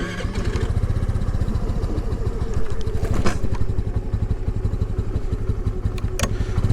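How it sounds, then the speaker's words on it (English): A 2022 Honda Navi's small engine runs steadily off choke in freezing weather, a loud, close, continuous putter with a fast even pulse and a brief louder rev near the middle. "So it's running fine off choke. It just doesn't want to idle."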